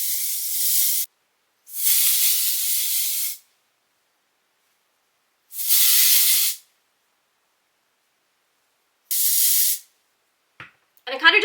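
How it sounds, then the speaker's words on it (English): A dry volume texture hair spray hisses in four separate bursts with silent gaps between them, close and fairly loud. A brief rustle follows at the end. "this dry volume texture spray"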